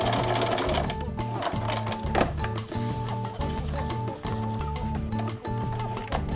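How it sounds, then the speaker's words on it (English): A domestic sewing machine runs steadily, stitching a reinforcing line through fabric near a zipper on a bag made from an IKEA pillow, its rapid mechanical chatter continuous and close with a few brief pauses. "I stitched it along where that extra bit of fabric is up near the zipper."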